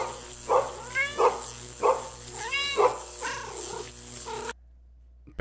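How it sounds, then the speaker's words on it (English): A house cat meows four times in a row during a casual live stream, each call short and clear at moderate distance over a steady low hum, before the sound cuts to near silence. "Oh, there's Puppy the cat"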